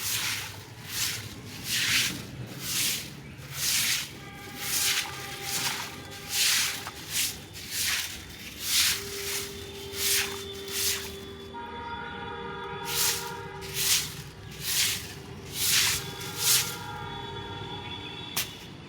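Broom sweeping pooled rainwater off a rooftop vegetable garden during the rainy season, a series of rhythmic wet scrubbing swishes repeating about once a second, fairly close and steady throughout.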